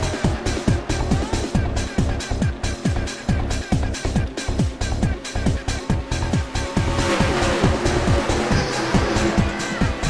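Race cars at Indianapolis in a video game race roar by in a dense, loud stream of engine passes, with rhythmic whooshes and a brief tire squeal as cars slide sideways.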